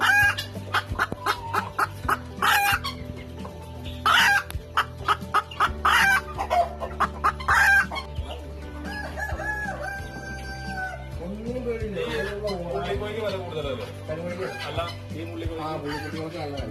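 Several native country hens cluck repeatedly in short bursts, close by, with a drawn-out crowing call partway through and lower background noise.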